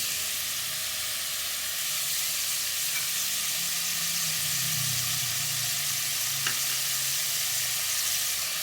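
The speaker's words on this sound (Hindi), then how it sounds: "अब इसी के अंदर हम अदरक लहसुन का पेस्ट ऐड कर देंगे।" Ginger garlic paste frying with potatoes and carrots in a pan, giving a steady, continuous sizzle with soft hiss throughout and a brief clink of stirring partway through, no voices.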